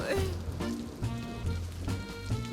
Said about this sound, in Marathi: बाहेर बघा किती जोरात पाऊस पडतोय.